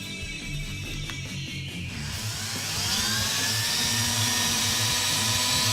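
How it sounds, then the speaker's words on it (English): A belt sander grinds a steel greatsword blade, giving a loud, steady mechanical whine with a motor drone underneath that grows harsher and more intense partway through, with no talking. "My belt sander's kind of noisy."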